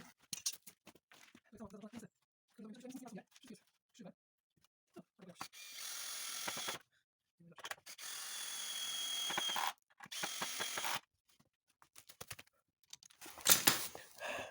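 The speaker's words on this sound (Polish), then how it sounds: "Teraz idę wkręcić drugą stronę." A power drill drives screws into a wooden pergola with bench, heard as several whirring bursts of a few seconds each, close up. Ratcheting clicks and handling noises sit between the runs, along with brief stretches of quiet talk.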